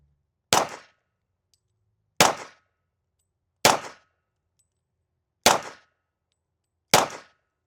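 Five pistol shots from an HK VP40 or Springfield XD45 ring out one at a time on steel targets, each a sharp metallic clang with a short ringing decay, spaced about one and a half seconds apart in otherwise quiet surroundings.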